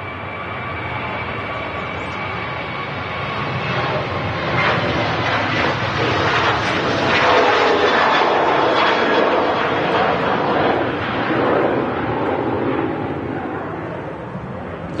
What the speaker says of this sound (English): Another aircraft already about to touch down.